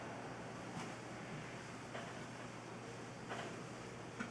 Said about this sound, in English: The water's boiling.